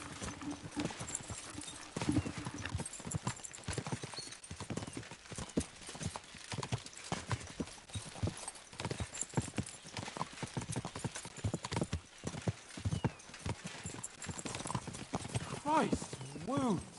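Horse hooves clip-clop rapidly over ground, several horses moving together in a steady rhythmic clatter, with a brief whinny near the end and voices talking over the hoofbeats.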